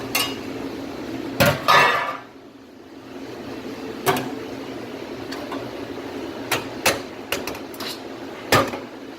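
Metal AutoFry fryer baskets clatter and clank during reassembly, a run of sharp close knocks and rattles at irregular intervals with quieter handling noise between, no voices.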